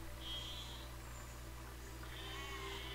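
Sheep in Besiege bleating, a short bleat early and a longer wavering one near the end, faint above a continuous low droning hum, no speech.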